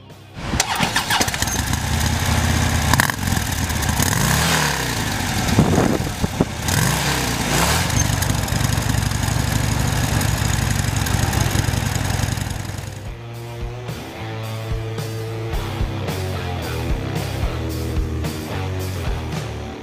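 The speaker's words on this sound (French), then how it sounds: "il faut tourner la poignée, faire une bonne grosse accélération" A 2014 Harley-Davidson Dyna Fat Bob with an air-cooled 1690 cc V-twin revs hard and loud up close, its deep rumble rising through strong throttle blips before settling into a lumpy, rhythmic idle.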